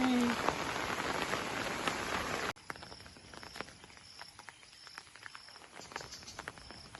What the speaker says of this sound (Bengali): প্রচুর বৃষ্টি হচ্ছে না